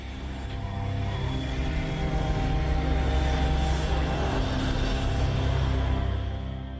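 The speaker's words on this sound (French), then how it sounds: "Le vol 195 de British Airways atterrit à l'aéroport international George Bush" British Airways flight 195, a jet, lands at George Bush Intercontinental Airport in Houston, with a loud, steady engine roar that swells in and holds for several seconds, and no voices.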